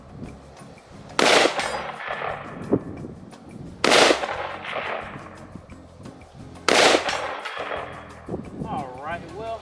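Three loud gunshots from a Radical Firearms RF15 AR pistol, fired at a target about a second and a half to three seconds apart, each a sharp crack with a ringing tail over faint outdoor background.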